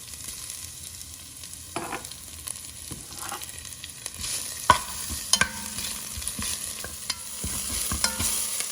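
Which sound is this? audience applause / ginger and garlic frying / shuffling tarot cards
ginger and garlic frying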